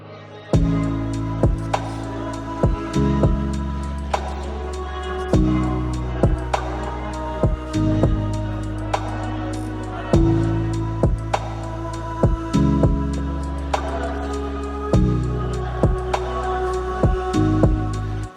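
Lo-fi remix of a song, built in FL Studio, plays alone with a steady, moving beat, sustained low chords shifting every few seconds and crisp percussion hits throughout.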